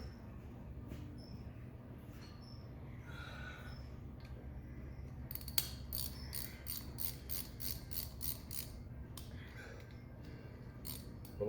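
Bolts are tightened back up on a Mini 300 torque hub with a ratcheting wrench, giving a rapid run of crisp metallic clicks in the middle, plus a few scattered clinks before and after, quiet and close, with no talking.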